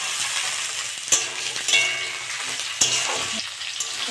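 Carrot, capsicum and beans fry for fried rice in a hot pan, giving a continuous crackling sizzle with a few sharp utensil knocks against the pan as they are stirred.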